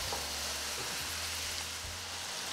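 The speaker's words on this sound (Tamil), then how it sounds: "இந்த தக்காளியை வந்து நீங்கள் நல்லா ஒரு மூணுலேருந்து நாலு நிமிஷம் வதக்கி விடணும்" Tomatoes sautéing in a pan for tomato kuzhambu give a soft, continuous sizzle and crackle, fairly faint and steady, with no talk.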